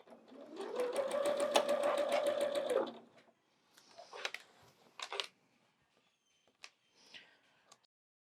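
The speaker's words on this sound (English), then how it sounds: "let's go ahead and sew this one side" A home sewing machine stitches quilt pieces for a sunflower quilt in one steady, close whirring run of about three seconds, followed by scattered clicks and light handling of fabric.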